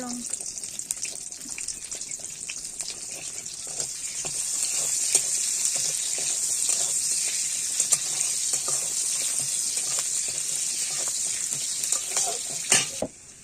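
Chopped onion sizzles steadily in hot oil in a home kitchen pan alongside potato and egg cooking, a continuous bright crackle with occasional stirring scrapes, close and fairly loud, ending abruptly near the end.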